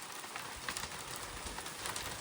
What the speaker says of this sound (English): there's, I don't know, pebble-sized hail coming down at the moment.